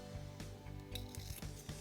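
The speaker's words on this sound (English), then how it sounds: "Take my scissors," Scissors snip through ribbon to cut a dovetail end for a Dollar Tree fall pumpkin wreath, giving a series of quick, close metallic snips in an uneven rhythm.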